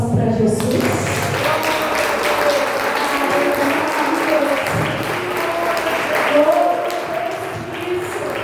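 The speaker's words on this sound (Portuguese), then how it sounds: "Você pode dar um louvor de palmas para Jesus?" A church congregation clapping in praise to Jesus, a continuous wash of applause with a tonal voice or music running underneath.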